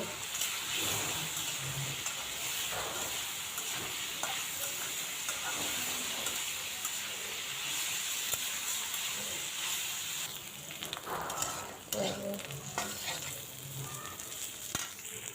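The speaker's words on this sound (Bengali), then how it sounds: "ভাজা হয়ে গেছে, করলা ভাজি হয়ে গেছে" Bitter gourd fries in a pan with salt and turmeric, a quiet, steady sizzle and hiss with occasional stirring scrapes, continuous throughout with no speech.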